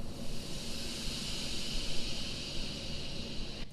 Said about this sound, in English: I added effects, like I made some steam release